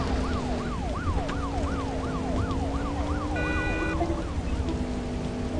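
A video game police car siren wails in a fast repeating rise-and-fall pattern over a constant hiss of rain, with a steady low vehicle tone underneath, moderately loud and continuous.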